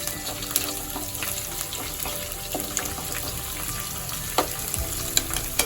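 Chopped green chillies fry for mango pulihora under a continuous close sizzle, with scattered clicks and scrapes as they are stirred.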